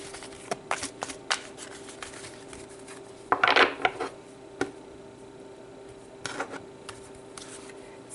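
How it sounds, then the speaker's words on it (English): Tarot cards are shuffled and pulled, with scattered light taps and card flicks, one brief riffling flurry in the middle and another softer one later, quiet and close. "So let's pull some more cards"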